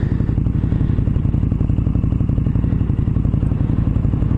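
A Suzuki VL 250 motorcycle idles close by, its engine putting out a steady, rapid low thumping pulse with a slight mechanical clatter, loud and unbroken throughout.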